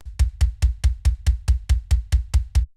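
A punchy processed kick drum thumps in a steady fast rhythm, boomy low end with a sharper attack on every hit, nothing else playing.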